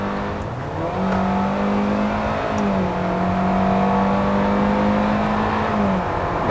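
Hyundai Venue with a 1.6 MPI engine and CVT accelerating from low speed, a steady droning engine note that climbs gently and holds a level pitch rather than stepping through gears, heard from inside the car.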